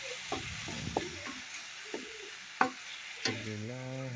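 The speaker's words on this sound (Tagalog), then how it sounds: "Sige lang, halo-haloin lang hanggang sa lahat ay mailalim na pailalim." Patola sliced and stir-fried with sautéed aromatics, a soft sizzle broken by several sharp spatula scrapes and clanks against the pan, close by, with a brief voice near the end.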